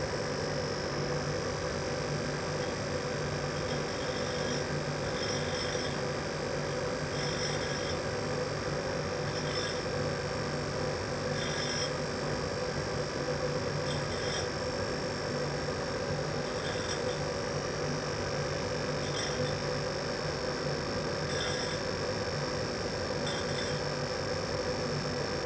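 A pink grinding wheel spins steadily on a machine during balancing, a constant mechanical hum with a high whine and faint periodic ticks, unchanging for the whole stretch with no talk.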